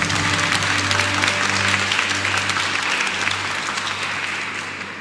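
A large crowd claps in sustained applause for the referees and classifiers at a presidential reception for Taiwan's Tokyo 2020 Paralympic team, steady and dense throughout and easing slightly toward the end.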